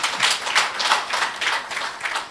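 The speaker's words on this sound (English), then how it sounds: "Let's give him another round of applause" Audience applause at an investment conference, a steady run of many hands clapping at moderate distance, with regular rhythmic swells across the room and no talk over it.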